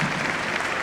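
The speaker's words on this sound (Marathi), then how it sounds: "जोरदार टाळ्या होऊन जाऊ." A dense burst of audience applause fills a hall at the Arcane Illusions 2025 university event, loud, steady and continuous with no gaps.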